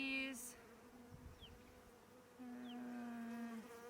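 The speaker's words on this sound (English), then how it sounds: "Looks like we got lots of bees in here." A steady insect buzz of honeybees in an open hive hums through the whole stretch, many bees droning close by, with a few faint higher chirps over it.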